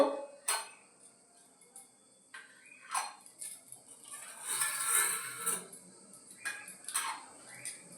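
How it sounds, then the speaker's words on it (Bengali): Metal plates of prasad offerings are covered at a temple puja, with a few soft clinks and light taps spaced irregularly against a quiet room. A faint brushing clatter swells briefly near the middle. "এবার প্রসাদের থালাগুলো ঢাকা দিয়ে দেবো।"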